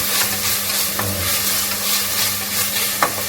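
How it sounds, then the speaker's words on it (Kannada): Steady, close sizzling of spices tempering in hot oil for sprouted horse gram sambar, with a few faint clicks from stirring. "ಸರಿ ಒಗ್ಗರಣೆ ಆಗ್ತಾ ಇದೆ"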